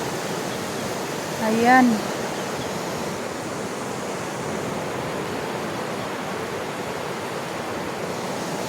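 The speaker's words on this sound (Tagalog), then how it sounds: "Tingnan nyo po yung tubig oh, ay ilog oh" River water flows in an even, soft rushing wash, with one brief spoken word near the start and the steady current continuing alone afterward.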